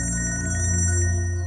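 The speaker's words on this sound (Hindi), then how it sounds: "आपका फोन बज रहा है।" A mobile phone rings in a steady, repeating tone pattern at close range for the whole moment, with no voices over it, in a tense crime-drama scene.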